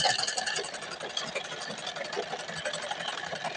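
A sewing machine runs steadily while stitching a pyjama seam, a fast, even mechanical whir with rapid needle ticks, close and continuous with no talking.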